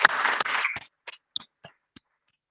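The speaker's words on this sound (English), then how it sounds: "So a round of applause" Audience applause at the close of a panel session at a Pacific migration research workshop: a brief burst of clapping that fades within a second, followed by a few scattered isolated claps.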